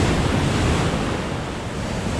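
Ocean waves wash onto a beach in a steady, loud roar, with wind buffeting the microphone for the whole short stretch.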